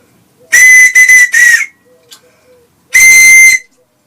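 A handmade whistle gives loud, shrill, steady blasts, first three in quick succession and then one more after a pause, close to the listener, with quiet gaps between them.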